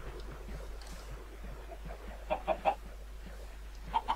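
Chickens in a video game let out a few short clucks in quick succession partway through, then another pair near the end, moderately loud over a soft background hum.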